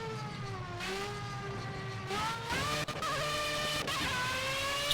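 An LMP1 race car engine in Project CARS on Xbox One, a loud, close, harmonic whine that climbs in pitch, drops abruptly at gear shifts, and climbs again.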